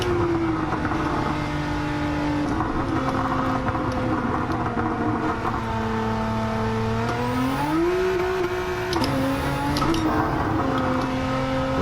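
A Nissan Z lapping a race track, its engine droning loudly and steadily from inside the car, pitch climbing and dropping through gear changes and a brief lift around a corner, with no voices.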